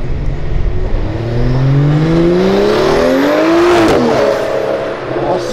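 A BMW 1M accelerates hard in front of a police car on the street, its engine note rising through gears with a brief shift break, loud and close, no voices.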